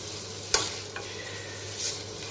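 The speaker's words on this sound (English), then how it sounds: "to that I'm just going to add a tablespoon of plain flour and mix it through" Flour being stirred into browned onions in a pan, a soft sizzle running under a sharp scrape or knock of the utensil near the start, then a couple of quieter stirring scrapes.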